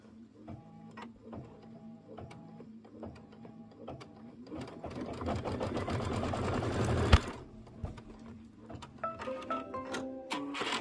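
Sewing machine stitching a quilt seam on an autumn quilt project, with rapid rhythmic mechanical whirring and clicking up close, bursts of stitching that speed up into a dense run before slowing to short spurts.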